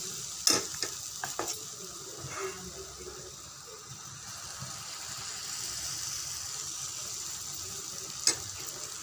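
Rava bonda, crisp semolina fritters, sizzle softly and steadily in hot oil over a medium flame, with a few sharp clinks of a utensil near the start and end. The sound is quiet and close, with no voices.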